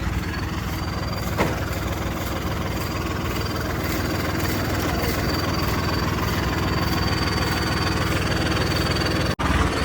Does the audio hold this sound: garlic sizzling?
no